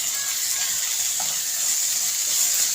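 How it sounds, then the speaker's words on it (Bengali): Spices such as chili and cumin powder are stirred into pigeon meat frying in oil, making a steady, close hiss and sizzle with soft scraping throughout. "তো এগুলো আমি একটু ভালোভাবে নেড়ে চেড়ে মিশিয়ে নিব"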